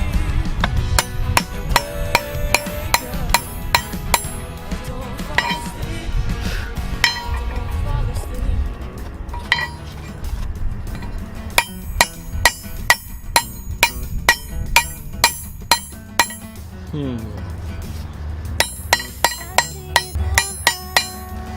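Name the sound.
ball peen hammer striking a knife's deformed metal ring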